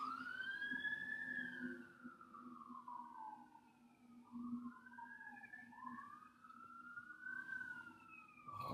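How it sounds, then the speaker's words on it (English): Emergency vehicle sirens wail far off on a Sunday, several overlapping rising and falling tones drifting faintly through the background without any talk. "Lots and lots of sirens for a Sunday."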